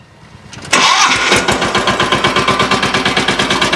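A power tiller engine cranks and catches, then settles into a loud, rapid, even putter like a large tractor, close by with no talk over it.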